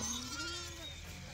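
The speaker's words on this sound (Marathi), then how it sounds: "म्हणजेच बाळूमामाच्या मेंढ्या बागा नंबर 15 आणि लालखंड असं याचं नाव आहे." A single drawn-out bleat rises from a sheep flock, the Sant Balumama herd number 15, over a steady outdoor background murmur.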